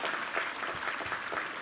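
A church congregation at a Sunday worship service claps together, a dense, even applause that sounds moderately distant and holds steady for the whole stretch.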